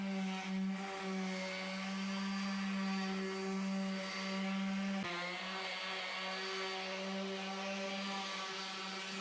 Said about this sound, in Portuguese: Nós vamos passar a lixa fina. Vou usar a rota orbital